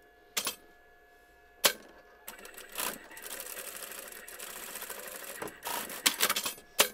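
A sewing machine stitches the lining of a plush lamb romper in quick, rattling bursts, with short starts, then a longer continuous run and a few clicks at the end, close up and clear.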